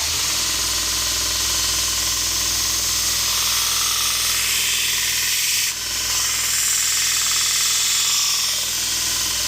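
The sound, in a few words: belt grinder sharpening kukri edge on fresh 120 grit belt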